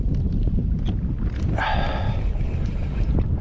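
Strong wind buffets a kayak on Greenbo Lake during December trout fishing, a steady low rumble of gusts across the microphone running throughout, with a brief brighter rush of noise in the middle.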